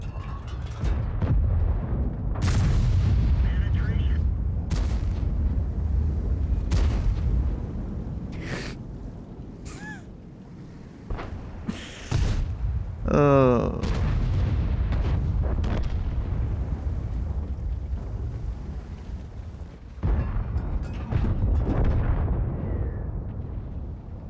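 Tank gun fire in a video game aimed at an IS-6, several heavy booming shots spaced seconds apart over a low rumbling engine bed, with a sharp whining ricochet sound midway.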